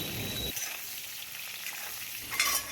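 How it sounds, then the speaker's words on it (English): Arbi (taro root) pieces frying in hot oil with bay leaf and cumin, a steady close sizzle and crackle throughout, with a brief stir or spatter burst near the end. "Fry these arvis for 5-6 minutes."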